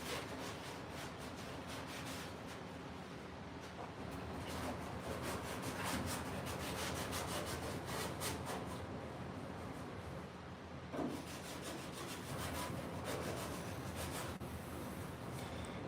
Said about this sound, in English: just a lot of sanding.